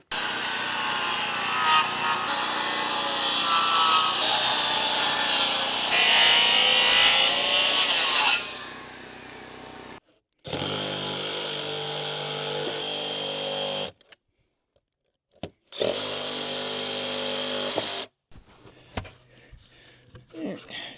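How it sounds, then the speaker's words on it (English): Wooden steps cut outdoors with a skill saw and then a jigsaw, several loud close bursts of whining, rasping cutting separated by silent pauses, ending with faint shuffling. "We'll do the primary cuts with the skill saw and then come back with the jigsaw and just finish off the cuts"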